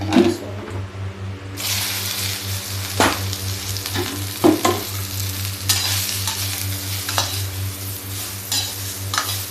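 Okra (bhindi) fries loudly in an oiled pan, a dense, close, continuous sizzle with periodic spatula scrapes and knocks as the pieces are stirred, over a steady low hum.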